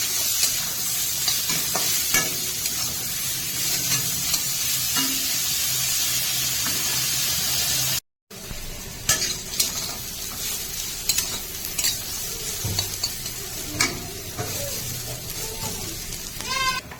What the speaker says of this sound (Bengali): হেলেঞ্চা শাক ভাজা হয়ে গেছে, তুলে নেব।